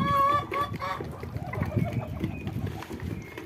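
Farmyard poultry, including native chickens, Muscovy ducks and turkeys, calling together at close range, with overlapping clucks and squawky honks in a busy, continuous jumble.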